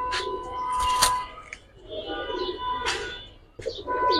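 Pigeon with a round head and thick beak, a coloured Giribaz high flyer, cooing in a few soft, low phrases spread across the clip at moderate distance, with other birds and room noise around.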